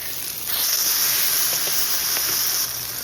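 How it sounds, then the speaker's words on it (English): Pierogi fry in hot oil in a pan, giving a steady loud hiss and sizzle that starts after a brief quieter moment and holds without any talking. "I'm frying my pierogi"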